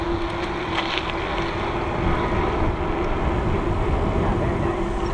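An Optibike Pioneer City electric bike pulls away with a steady motor hum, heavily buried under continuous loud wind rush across the microphone for the whole stretch.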